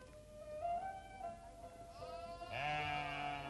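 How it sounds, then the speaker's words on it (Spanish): Flock of some 300 sheep and goats belonging to a nomadic herding family, bleating in overlapping calls, several voices near and others farther off, swelling louder toward the end. "Esta familia cuida de un rebaño de unas 300 ovejas y cabras"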